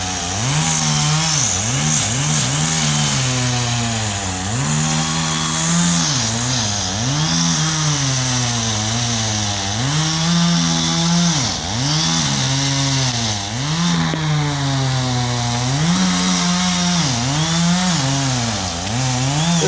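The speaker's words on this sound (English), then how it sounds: "Let's get a little bit closer so we can see some of this live action, some of this live chainsaw action." A chainsaw cuts into a tall pine tree during a tree removal, a loud, close engine drone that rises and dips steadily as the blade bites and eases, with no talking.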